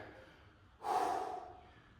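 Heavy breathing after a strength workout, one loud forceful exhale midway through, close to the microphone, against quiet background with no speech.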